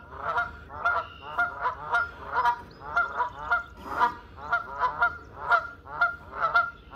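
Canada geese honk repeatedly in a steady rhythmic series of loud, nasal calls, close by and continuous throughout, at Sebago Lake, Maine, in early spring.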